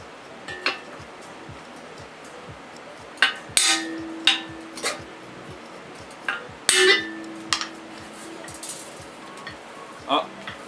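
Hammer tapping on a hollow steel gas bottle being shaped into a tongue drum, a handful of sharp strikes spaced irregularly, a few ringing briefly, over a low background hum.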